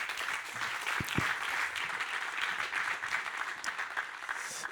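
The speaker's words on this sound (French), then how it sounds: "Et vous pouvez l'applaudir, s'il vous plaît." Conference audience applauding a speaker at a closing address, a steady, dense wash of clapping that continues evenly throughout without any talk.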